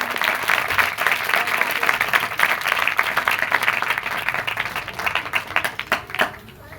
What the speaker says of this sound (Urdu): ویلکم دسمبر، زوردار تالیاں۔